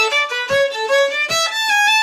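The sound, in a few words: fiddle playing with ghost bow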